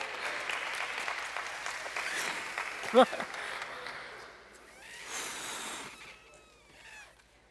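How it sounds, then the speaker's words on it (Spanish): A congress audience gives a short round of applause for an assistant, fairly faint and fading, followed by a voice talking and squeaky rubbing sounds like a balloon being handled. "Un aplauso también para ella"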